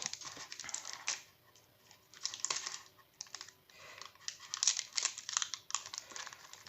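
Crinkly foil wrapper of a Pokémon card booster pack from an Alakazam V collection box being torn and worked open, a run of close, sharp crackles and rustles in uneven bursts.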